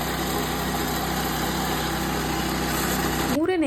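A 3-in-1 multifunctional power weeder used for stubble mowing and cultivation runs its small engine at a steady, close, buzzing idle, then cuts off abruptly near the end.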